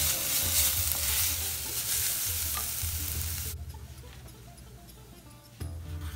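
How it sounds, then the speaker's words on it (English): Spring onions, ginger, garlic and green chilies sizzling and being stirred in a pan, a steady close frying hiss with scraping strokes that drops quieter midway and picks up again near the end. "Add the spring onions and saute till soft."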